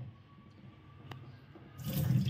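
Water is poured out of an old clay water pot in a home, faint at first, then swelling into a louder splashing gush near the end, with no talking.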